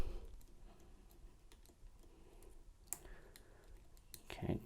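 Faint, sparse clicks from a Lishi HU198 pick working inside a Ford car lock, a few light taps scattered over a quiet background with a slightly louder cluster at the end.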